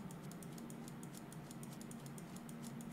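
Rapid, steady mouse clicks while sculpting terrain in the Project Spark world editor, a dense run of small sharp ticks over a constant hum, with no talking.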